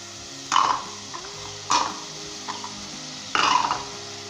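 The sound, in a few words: mixing chickpea curry with kewra water in a pot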